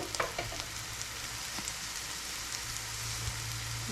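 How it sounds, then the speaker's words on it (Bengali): Chopped onions frying in oil in a kadai give a steady close sizzle and crackle, with occasional sharper pops and a low hum running underneath. "পেঁয়াজটা মোটামুটি ভাজা হয়ে এসছে।"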